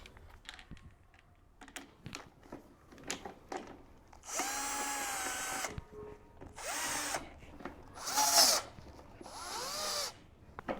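Screws being driven into an IKEA Renberget swivel chair during assembly: a series of scattered clicks and knocks, then several longer scraping, squeaking bursts of metal turning against the frame, fairly close, with no talking.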